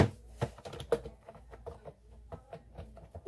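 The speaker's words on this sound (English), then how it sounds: "this is a typewriter keyboard, which is so nice" Fast, crisp typing on a clicky typewriter-style computer keyboard, with rapid uneven keystrokes close to the microphone and no talking.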